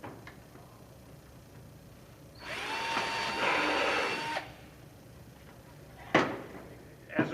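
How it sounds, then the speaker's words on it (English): A short burst of a small power drill whirring into a plastic water filter bucket to make a vent hole, about two seconds, fairly faint, followed by a couple of sharp knocks. "And then I will drill a vent hole."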